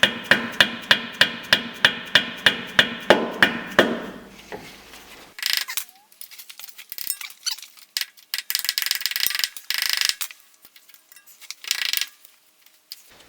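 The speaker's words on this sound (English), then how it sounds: "Cut off the excess and then hammer it down as best you can" Sharp metallic hammer taps ring out in a fast, even series of about a dozen blows, bending down cotter pins on a tie rod of a 1991 Jeep during a 4-inch lift install, followed by quieter clattering and handling noises.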